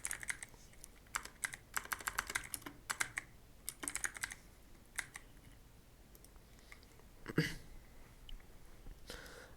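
Keystrokes on a computer keyboard come in quick bursts of typing, close and clear, broken by short pauses and a single louder click near the end.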